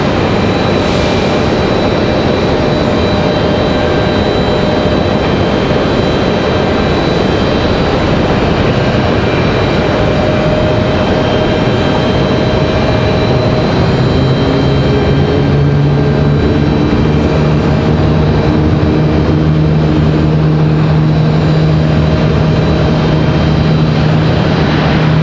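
An aircraft passes at Raleigh Durham International Airport, its loud broad engine roar holding steady throughout, with a rising tonal whine emerging in the second half.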